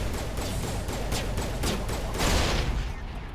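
A grenade blast in the Mass Effect video game, a dense burst of loud crackling impacts that swells into a heavier explosion near the end, with no talking.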